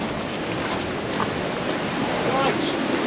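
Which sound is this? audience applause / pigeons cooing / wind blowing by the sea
wind blowing by the sea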